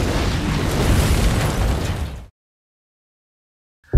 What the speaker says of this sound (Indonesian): tiba-tiba gudang itu meledak